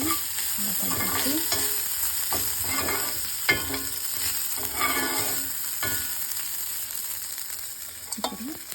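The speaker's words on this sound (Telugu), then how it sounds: "ఈ రైస్ని కొద్దిగా దీంట్లో వేసేసి అలా కలిపేసి" Cooked rice being stirred into lemon rice seasoning in a pan, giving repeated scraping and mixing strokes over a steady soft sizzle, with no voices.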